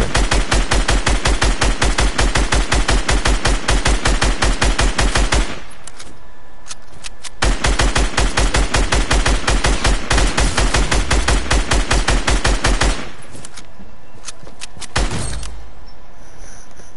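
Rapid automatic gunfire in the video game Fortnite during a solo tournament, two long sustained bursts of loud, rhythmic shots with brief pauses and a few scattered single shots between them.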